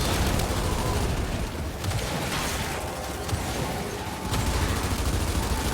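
Dense, continuous automatic gunfire from the Gears 5 video game, a loud rapid mechanical rattle that barely lets up, with brief dips before bursts resume.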